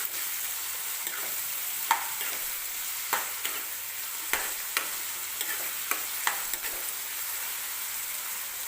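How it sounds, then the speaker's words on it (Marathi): Onion and capsicum fry in oil for pav bhaji, a steady even sizzle broken by a series of light, regular spatula taps and scrapes spread across the clip. "तर हे व्यवस्थित आपल्याला तेलामध्ये भाजून घ्यायचं आहे."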